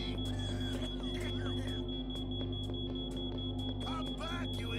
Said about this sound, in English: Somebody turn that off!